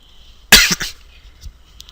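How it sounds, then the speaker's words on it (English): A person with a sore throat gives one loud, harsh cough burst followed by a couple of rougher trailing coughs, then fainter throat noises close to the microphone in a quiet room. "Sorry about all the coughing and stuff"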